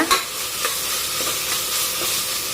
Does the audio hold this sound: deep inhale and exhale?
no